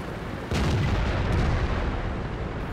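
A tank cannon fires in World of Tanks: one sudden heavy blast, followed by a dense rumbling roar that fills the rest of the moment at close range.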